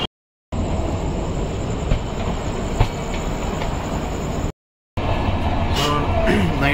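A night passenger train in 3rd AC rumbles steadily along the rails, a loud continuous roar with rhythmic wheel clatter, broken by two brief silent gaps.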